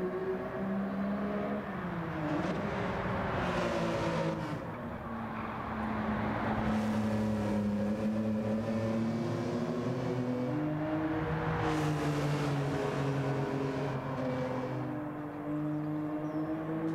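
A BMW race car engine in a Gran Turismo 7 replay drones loudly and steadily, its pitch rising and falling through gear changes and corners, with a couple of whooshing swells as the view shifts.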